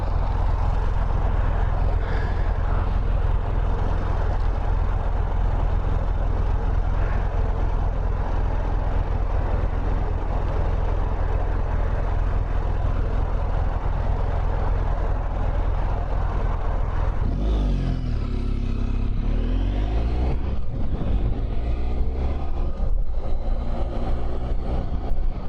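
A BMW F700GS motorcycle out on a ride, its engine and wind roar droning loudly and continuously close to the rider, with the pitch shifting as it changes speed late in the run.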